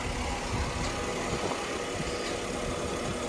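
A 1997 Daimler Six 4.0 LWB X300 runs its AJ16 six-cylinder engine at a steady idle. The hum is even and unbroken, with a broad hiss over it and no one talking.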